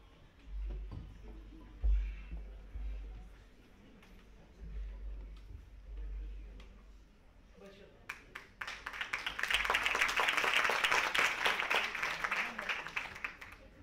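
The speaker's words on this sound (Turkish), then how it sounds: "Teşekkürler, alkışlarla uğurluyoruz." Audience applause for film producers Zeki Sincar and Adem Sincar at a Turkish film event for Ceberruh swells into loud, dense clapping after a stretch of announcer talk, lasting several seconds.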